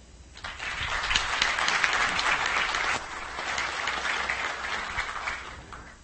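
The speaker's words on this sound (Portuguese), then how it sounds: "eu peço os aplausos para o advogado da BRW Advocacia, Dr. Ramon Bentivenha." A conference audience at a panel session applauds the mediator, a lawyer, with sustained, dense clapping that swells quickly, dips briefly midway and then tapers off.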